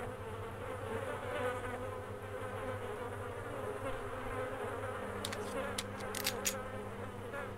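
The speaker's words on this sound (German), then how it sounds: "Verstecken wir mal die Körper, damit irgendwann dieses scheiß Gesumme aufhört." Flies buzz continuously around dead bodies in the video game DayZ, a steady droning hum at moderate level with a few sharp clicks near the end.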